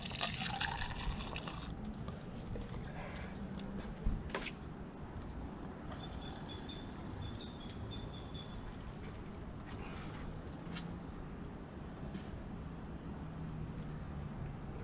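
A thin stream of liquid pours steadily into a funnel while fixing the heater of a 2005 Fleetwood Discovery motorhome. A soft, continuous trickle and gurgle, with a few small clanks in the background.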